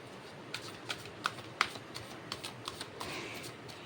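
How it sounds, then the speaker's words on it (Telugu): Tarot cards are shuffled close by, a series of soft rhythmic riffles and snaps about every third of a second over a quiet room hush. "cards shuffle చేస్తున్నంతసేపు"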